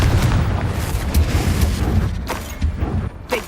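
A Confringo blasting spell goes off in the video game Hogwarts Legacy, a loud, rumbling low boom sustained across the moment with a few sharper cracks layered over the roar.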